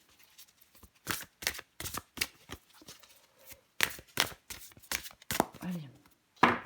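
Tarot cards shuffled and drawn one by one, a rapid string of crisp, papery riffles and snaps in irregular bursts, close and fairly loud, with a brief voice sound near the end.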